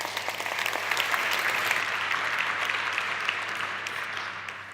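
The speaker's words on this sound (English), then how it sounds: "if we could have some applause for her as well" Audience applause at the Forschungsgipfel 2018 research summit, welcoming a speaker to the stage: dense, steady clapping from a large crowd, sustained at an even level for several seconds before tapering slightly at the end.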